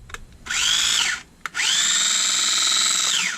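A repaired MGRC RC truck's electric motor whines in two loud bursts with a short gap, each rising in pitch and then winding down, following a faint click.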